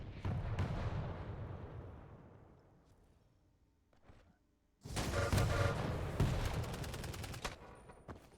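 Rapid nail gun fire in the video game Quake during a competitive match: a dense volley that trails off, a few scattered shots, then a second loud sustained burst of rapid-fire clatter.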